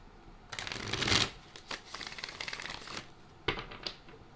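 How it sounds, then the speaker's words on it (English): Tarot cards are shuffled by hand in soft, quick riffling bursts with brief gaps, close and fairly quiet, with no talking over them. "I'm hearing one more shuffle."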